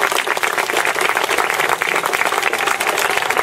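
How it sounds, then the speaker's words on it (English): A crowd at a school signing event gives a round of applause, with dense, steady clapping that holds at an even, loud level throughout. "if we could just give him a quick round of applause for his commitment to this school"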